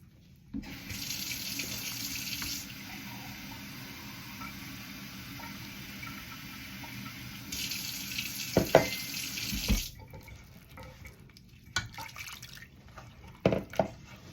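Water is poured into urad dal flour in two close, steady streams, each lasting about two seconds with a quiet gap between them. Soft clinks and a few sharp taps follow.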